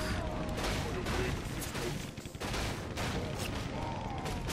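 Turrets fire continuously in a strategy video game, a dense rattle of gunfire and explosions that keeps up without letting up, with a voice talking over it.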